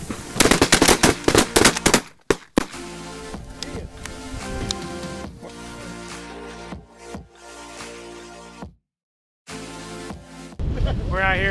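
Shotgun blasts during a Texas sandhill crane hunt, a sharp burst of several rapid loud shots followed by further scattered reports amid wind and outdoor noise.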